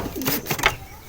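Pigeons near their freshly laid eggs give a short, soft cooing call, a low throaty warble of a few pulses heard up close.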